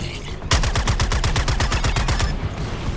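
A gun fires in rapid automatic bursts in Suicide Squad Kill the Justice League, a steady string of sharp, loud shots for about two seconds before it stops, with faint background noise around it.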